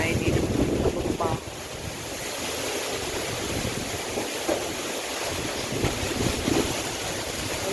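Strong typhoon Uwan wind roars across a small integrated farm, a continuous dense rushing with gusty buffeting on the microphone, loud and unbroken throughout.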